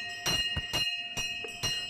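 A handheld bell rung during Hindu ritual worship in the Konkan region, struck in about five bright, ringing clangs at an uneven rhythm, close and clear with lingering metallic overtones.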